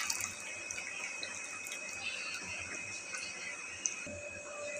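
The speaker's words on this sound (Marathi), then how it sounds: "आता ह्याच्यात थोडंसं चांगलं पाणी घालून ह्याला धुवून घेऊया" Water runs from a tap and splashes as it is poured over chhena (curdled milk) to wash it, a steady, fairly soft trickle with a faint ringing tone and a small clink near the end.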